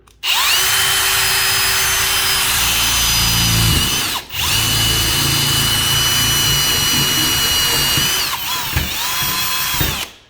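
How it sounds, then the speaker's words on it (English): A loud power drill grinds steadily through a metal door, pausing briefly once before whining on, then cutting out near the end. "And we're just going to drill until it pops through."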